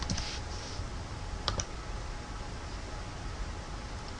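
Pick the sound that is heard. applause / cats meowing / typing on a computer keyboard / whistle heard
typing on a computer keyboard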